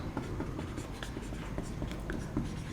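A marker or chalk writes on a board during a Class 11 physics lesson on gravitation, making quick scratchy strokes in an irregular rhythm close by, with no talking over it.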